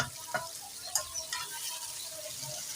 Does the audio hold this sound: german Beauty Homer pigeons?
no